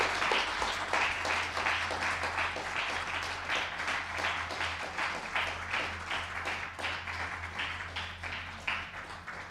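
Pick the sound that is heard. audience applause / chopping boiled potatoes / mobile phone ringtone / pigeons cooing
audience applause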